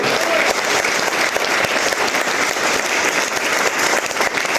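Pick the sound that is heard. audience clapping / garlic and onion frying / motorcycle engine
audience clapping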